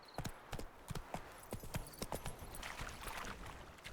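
Hooves of Roach, a horse in The Witcher 3, clip-clop in a brisk irregular rhythm, sharp close thuds over a low background bed, with no voices.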